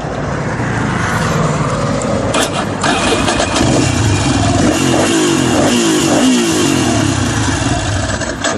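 A motorcycle engine cranks and fires up loud and close, then settles into a rough idle punctuated by throttle blips and revs.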